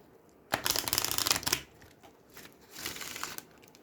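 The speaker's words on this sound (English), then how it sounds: "I'll have a quick shuffle and see what wants to come out." A deck of spirit animal message cards being shuffled by hand, a loud close burst of rapid riffling flutter, a pause, then a second softer shuffling run.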